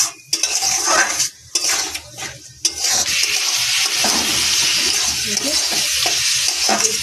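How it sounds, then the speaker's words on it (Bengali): Semolina pulao is stirred in a pan: a close, busy sizzle with repeated scraping and clanking of a utensil against the pan, briefly pausing early on before continuing steadily. "এই পর্যায়ে এভাবে নাড়তে হবে, নাড়তে নাড়তে শুকনো হয়ে যাবে।"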